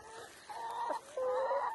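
Chickens clucking in a backyard coop, a couple of short close calls rising and falling, fairly quiet over a soft background hiss.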